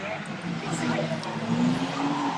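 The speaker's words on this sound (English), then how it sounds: "There we see a bit of a collision early on" Stock cars in a race skid and scrape against each other, tires squealing under a rising, continuous engine roar, with a commentator talking over the noise.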